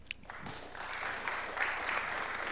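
Audience applause after a pitch presentation at a French conference on resilience, a dense, steady patter of many hands that holds at moderate loudness throughout, with no voices over it.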